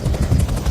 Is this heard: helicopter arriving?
yes